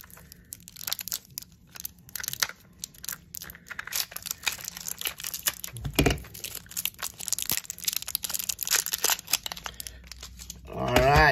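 Packing tape being pulled and torn off a package holding a 2024 Australian Kookaburra silver coin, close crinkling, ripping and crunching bursts in irregular bouts, with no talking.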